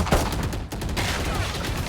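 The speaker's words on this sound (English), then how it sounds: "Oh shit, this is the bear pistol." Rapid pistol gunfire in a video game, a quick burst of sharp shots fired close and loud, followed by continuing game noise.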